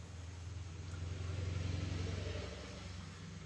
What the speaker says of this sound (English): so you can probably hear like the cars go by and stuff like that